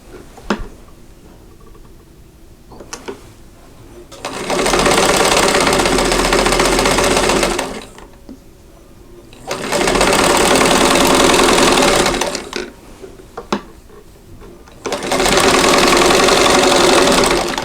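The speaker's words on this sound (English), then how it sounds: "So I always sew opposite corners, trim and press" A sewing machine stitches across the corners of a quilt block in three long, loud, steady runs, each lasting a few seconds and separated by quieter pauses with small handling clicks.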